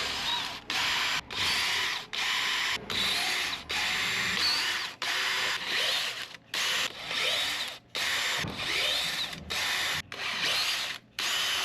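A hand tap cuts threads into a metal part from a scrapped carnival ride on a workbench, making a steady ratcheting clatter in repeated strokes, each stroke separated by a brief pause, loud and close with no talk.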